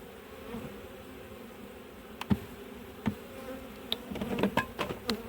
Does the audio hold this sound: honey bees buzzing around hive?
yes